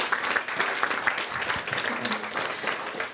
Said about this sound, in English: Just a quick round of applause again for our speakers.